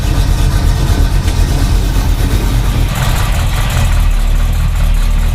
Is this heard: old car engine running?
yes